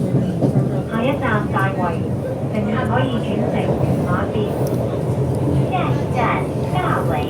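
Interior of a moving MTR train in Hong Kong, a loud steady rumble with rhythmic rail clatter throughout, and people talking over it.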